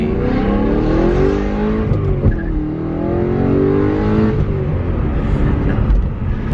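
A BMW M3's engine revs hard toward 6,000 RPM, a loud, close, sustained rising and falling engine roar with harmonic sweeps and no voices.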